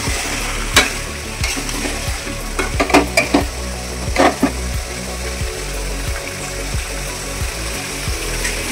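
Chicken is sautéed in a pan with ginger-onion-garlic paste and Kashmiri chilli powder, a constant sizzle broken by repeated sharp knocks and scrapes of a spatula against the pan, busiest in the middle stretch.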